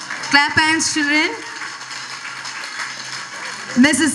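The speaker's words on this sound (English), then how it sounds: "Clap hands, children." Children at a school Children's Day prize distribution clap together, making a dense, hissing wash of applause that runs through the middle. An amplified voice talks at the start and end.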